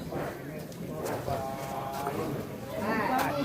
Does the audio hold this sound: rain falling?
no